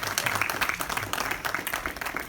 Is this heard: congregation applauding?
yes